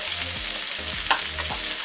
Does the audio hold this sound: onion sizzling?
yes